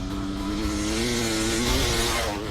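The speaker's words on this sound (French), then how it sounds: "Jamie va tout de suite se remettre en selle sur sa moto et cette fois-ci, il compte accélérer jusqu'à 130 km/h" A motorcycle engine revs hard and steadily in a continuous loud drone with rising harmonics as it accelerates toward 130 km/h across a lake, heard alone.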